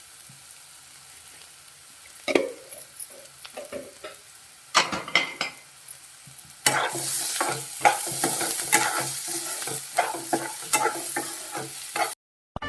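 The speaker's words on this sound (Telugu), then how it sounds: "ఉల్లిపాయలు మనము దూరగా వేయించుకుందాం" Onions frying in a pan for an omelette: sparse spatula clatters and taps at first, then a loud, dense sizzle with constant stirring scrapes that stops abruptly near the end, no speech.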